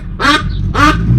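Two loud, close duck quacks in quick succession on a home porch, each a short raspy burst with a brief pause between.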